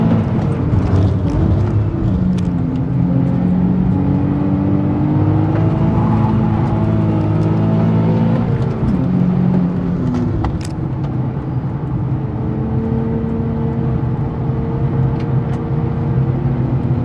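Nissan 370Z lapping Queensland Raceway during a track day, its engine droning loud and continuous from inside the car, pitch rising and falling through gear changes.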